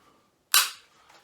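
The trigger of a Tikka T3 bolt-action rifle in 7mm-08 releases with a single sharp, crisp metallic click, close and isolated against near silence.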